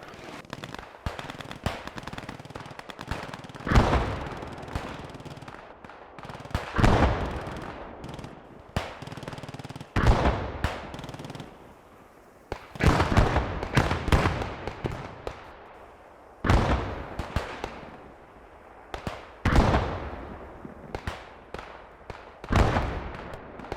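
Video game gunfire from magazines being emptied, in Operation Whirlwind: repeated sharp bursts of rapid shots, each cluster followed by a short pause, about eight volleys in a steady rhythm, loud and close with no talk.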